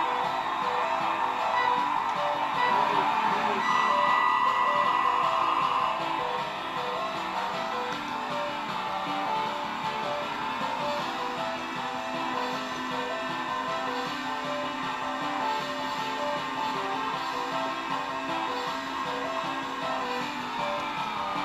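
Arcade game music and effects play loudly from a home-built arcade table through its wired-in amplifier, a dense continuous electronic soundtrack that carries steadily throughout with no talking.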